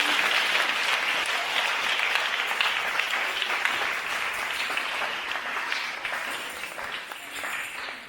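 Church congregation at a tabernacle anniversary service breaking into dense, sustained applause for Jesus, many hands clapping at once in a continuous loud wash that eases slightly toward the end.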